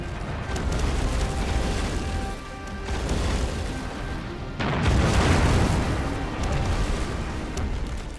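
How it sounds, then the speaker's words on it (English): Heavy booming blasts of cannon fire in the real-time strategy game No Man's Land roll out one after another, loud and rumbling, with a fresh surge of thunderous impacts midway through. "Fire the cannon!"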